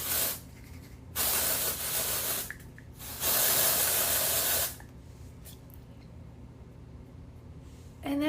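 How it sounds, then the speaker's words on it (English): An aerosol can sprays brunette-shade dry shampoo onto hair in three hissing bursts, the first short and the last longest, with quiet pauses between them. "I'm just gonna spray this on these hairs."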